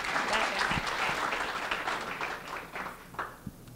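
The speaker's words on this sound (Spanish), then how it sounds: "Un fuerte aplauso a Denise Ávila" Sustained audience applause fills a student job forum as a guest speaker is welcomed, a dense steady wash of many hands clapping that eases slightly toward the end, with faint voices mixed underneath.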